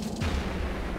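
A loud explosion spell goes off in Divinity: Original Sin, a heavy booming blast with a rumbling low tail that fills the whole moment, with no voices over it.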